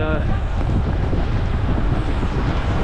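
Strong gusting wind buffets the microphone on a street in Macau, a loud, continuous rumbling roar with no break across the whole stretch.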